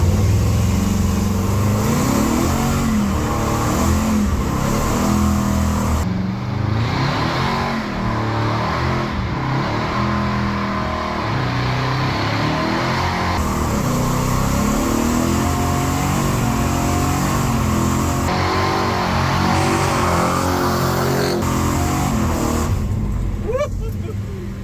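A truck engine revs hard and steadily through a two-wheel burnout, a loud continuous roar with rising and falling pitch, with someone talking over it at times.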